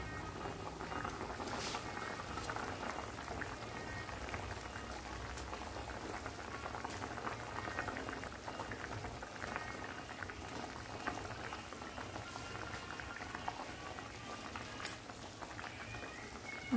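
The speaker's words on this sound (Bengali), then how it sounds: "তো আমাদের মাছের ঝোলটা একটু ভালো করে ফুটে গিয়েছে" A pot of golden fish curry with potatoes bubbles at a steady, even boil throughout, a close, continuous simmering patter with no voices.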